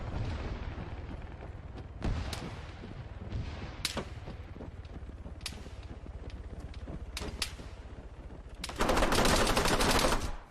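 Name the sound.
SPAR 16 rifle with drum magazine firing in a video game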